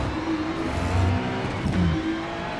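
Ferrari 296 GT3 engine in the iRacing video game at Sebring, revving up loudly and continuously as the car accelerates out of a corner, with no talk.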